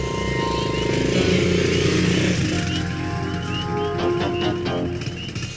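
Motorcycle engine running steadily at close range, a loud, sustained droning growl with a slight shift in pitch partway through and no speech.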